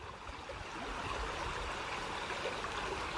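A small stream flows along a river's edge, a steady, close rushing and bubbling of water that fills the whole stretch without pause.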